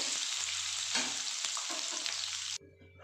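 Vegetables frying in hot oil until softened, for a paneer dish: a continuous bright sizzle with occasional stirring knocks that cuts off abruptly near the end, leaving near silence; no voices.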